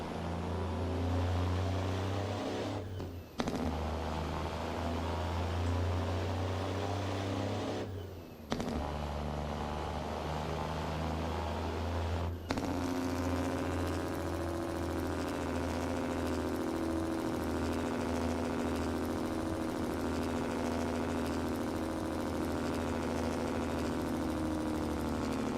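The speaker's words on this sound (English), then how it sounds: "That's what the Jake brakes sound like in this thing, dude" A Peterbilt 359 truck in American Truck Simulator roars with a loud, steady engine brake drone, broken by brief gaps and shifting to a higher, buzzier tone partway through, with no talk.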